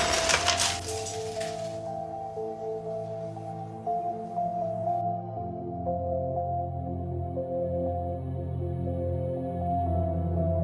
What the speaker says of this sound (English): There seemed to be no reason for the container to literally explode in front of him.